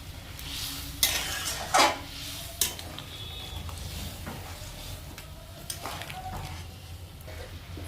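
Chicken pieces go into a simmering gravy in a pan, giving a few sharp clinks and splashes over a steady bubbling and sizzling bed that carries on quietly between them.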